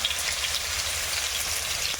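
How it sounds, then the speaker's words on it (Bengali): Continuous crackling sizzle of potatoes frying in hot oil, close and steady with no voices. "এবারে দিলাম আলুটা আলুটা একটু ভেজে নেবে"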